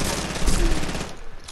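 Rapid gunfire in a video game, a dense burst of shots packed close together and loud, with no talk over it.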